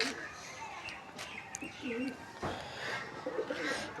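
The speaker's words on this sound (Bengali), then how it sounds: "পায়রাগুলো দেখুন, একটু আমার পায়রা শখ করুন।" Pet pigeons coo softly in a loft, low throaty calls repeating at moderate distance with a few chirps and background rustle.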